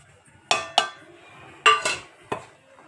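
A few separate clinks and scrapes of a utensil against a bowl while shrimp, onion, rice flour and spice powders are mixed for shrimp fritters, five short, close knocks with quiet gaps between.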